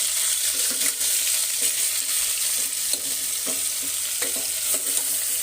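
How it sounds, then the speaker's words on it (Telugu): Brinjal pieces fry in hot oil with a steady, close sizzle, broken by a series of scraping stirs and soft clinks of a spoon against the pan. "మనం ఆయిల్లోనే కొంచెం ఫ్రై చేసుకోవాలండి"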